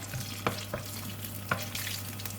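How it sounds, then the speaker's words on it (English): Clove, star anise and curry leaves sizzle in about two tablespoons of hot oil in a pan, a steady close hiss broken by a few soft scraping stirs, with no talking. "I'm going to put in the clove, the star anise, curry leaf. Give it a stir."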